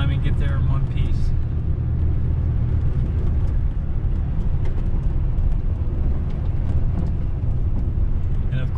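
A two-wheel-drive Chevy S10 pickup rolling along slick snowy roads, heard from inside as a constant loud low rumble of engine and tyre noise, with talking over it throughout.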